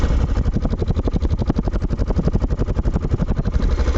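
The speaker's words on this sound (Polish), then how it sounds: "Wydech brzmi w ten sposób." A Daelim Roadwin 125 motorcycle idles close by with a steady, lumpy pulsing exhaust beat, loud and even throughout, without any voices.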